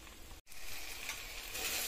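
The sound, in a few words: tomatoes frying with salt in a pan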